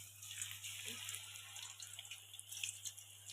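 A slice of banana chip drops into hot frying oil, setting off a soft, continuous sizzle and fizz that crackles faintly close by, with no voices.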